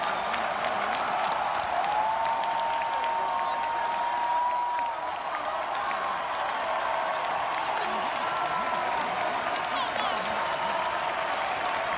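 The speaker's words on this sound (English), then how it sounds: "The applause." Applause fills behind-the-scenes footage from a Mandalorian trailer: a steady, distant wash of clapping from a crowd, with a faint tonal whistle drifting over it.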